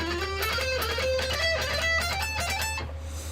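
Fast instrumental music passage played back slowed to half speed gives a smeared run of rising then falling tones over a low steady hum, moderately loud with no talking.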